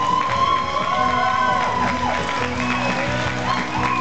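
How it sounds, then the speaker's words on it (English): Guests at a LEGOLAND Malaysia brick-laying ceremony applaud and cheer, a dense, continuous crowd roar with clapping and whoops under loud music with siren-like sweeping tones. "Once again, round of applause, congratulations!"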